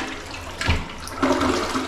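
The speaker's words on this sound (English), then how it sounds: "I'm gonna flush it." A household toilet flushes close by in a bathroom under inspection, a loud rushing gush of water that surges, dips briefly, then swells again as the bowl drains, with no talking.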